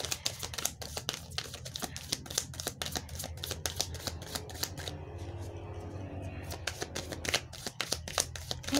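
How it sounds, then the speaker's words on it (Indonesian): A deck of cards is shuffled repeatedly in quick rapid riffles and flicks, close and crisp, continuing for several seconds with brief pauses. "Aku nungguin kartunya loncat ya, kartunya jatuh."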